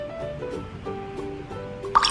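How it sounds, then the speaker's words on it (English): Drops of yellow dye plopping one at a time into a container of water during a children's color activity, small soft drips with a brighter splash near the end, no talking over them. "Let's put three drops in the water."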